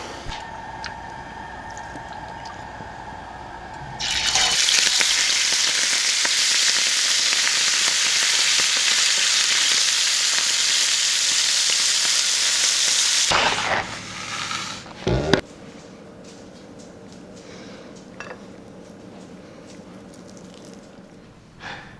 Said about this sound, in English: let me cook up these burgers